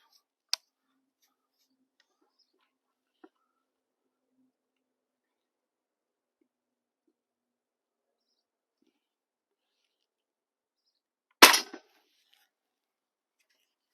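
A Crosman 760 Pumpmaster air rifle fires in a quiet room, giving one loud, sharp crack near the end, preceded by a couple of faint clicks, with long silence between.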